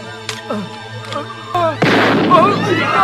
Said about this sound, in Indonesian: Kamsing pun dengan cepat mengeluarkan pistol dan menembak si Ali hingga dia tewas saat itu juga